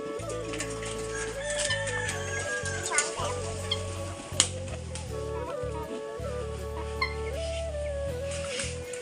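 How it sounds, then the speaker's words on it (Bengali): Chickens clucking and murmuring nearby amid other birds, with scattered short calls and occasional knocks over a constant low hum. "তিথির মুরগি কিন্তু অনেকটাই বড় হয়ে গেছে গা আমাদের।"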